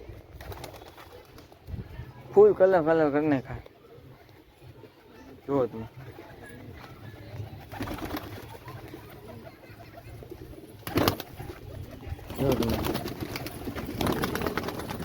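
Pigeons, some dyed with colour, coo intermittently on a rooftop terrace, soft throaty calls rising now and then under a man's close-up talking.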